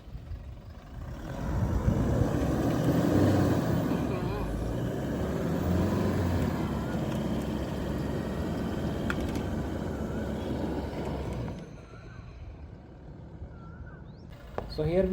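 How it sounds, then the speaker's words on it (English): A Toyota Hilux in rear-wheel drive mode without four-wheel drive engaged, its rear wheels spinning in loose sand off-road. The loud, rough engine and churning roar run steadily for about eleven seconds, then drop away. Voices talk over it. "vehicle is in rear wheel drive mode और 4-wheel drive नहीं लगाया है, तो because of no traction the rear wheels they are spinning"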